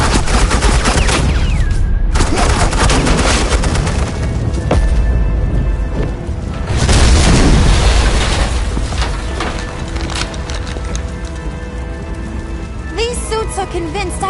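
Dense suppressing gunfire in the Batman Telltale Series game, loud and sustained, with bursts of rapid shots and booms layered into a continuous roar that swells around the middle and keeps going to the end.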